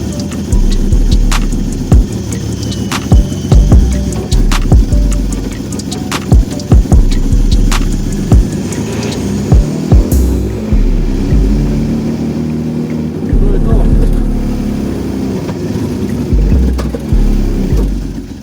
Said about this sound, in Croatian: Ako zanemarimo zvuk izduva koji izgleda pomalo bušan,